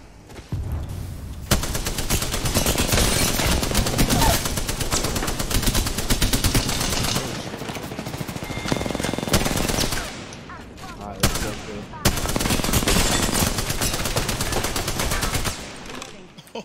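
Rapid automatic gunfire in the Apex Legends video game, long loud bursts of shots with short pauses between, close and dominant, with a voice briefly heard under the shooting.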